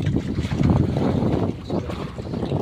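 A fishing boat's motor rumbles low and steady from a short distance, mixed with wind buffeting the microphone and the wash of open sea water.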